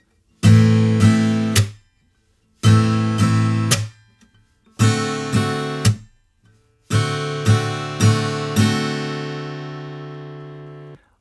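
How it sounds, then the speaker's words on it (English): Strummed guitar chords from the bridge of a song, four bright bursts of down-strums separated by short silences, the last chord left ringing out, close and clear with no voice. "So the second line of chords for this bridge sounds like this."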